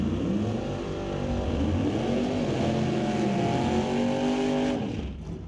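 A 1967 Cuda drag race car roars at the racetrack with a loud, sustained engine drone and shifting harmonics, holding steady before dropping off near the end.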